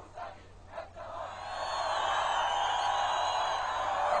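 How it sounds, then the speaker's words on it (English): A huge crowd of demonstrators at an opposition rally in central Tehran chants and roars, with two short shouted bursts early and then a sustained, swelling crowd roar that fills the rest. "It's an incredible crowd, and this is for a demonstration the government said was banned"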